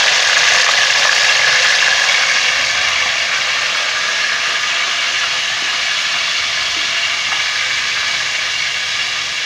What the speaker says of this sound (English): So let's start to fry the fish.